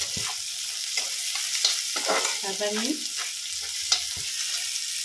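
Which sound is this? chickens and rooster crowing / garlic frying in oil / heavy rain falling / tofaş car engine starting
garlic frying in oil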